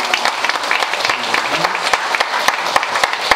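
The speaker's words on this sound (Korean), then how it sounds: "하나님께 영광의 박수 다시 한번 올려드립니다." A church congregation applauds during a worship service, dense, lively clapping from many hands that stays steady and fairly loud throughout.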